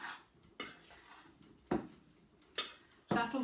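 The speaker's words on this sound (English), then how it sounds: "I'm going to just put a tablespoon of flour in with these and just stir them around to coat them" Fruit being stirred with a tablespoon of flour in a bowl for a cake, giving four separate clinks and scrapes of a spoon against the bowl, moderately close, with quieter rustling between them.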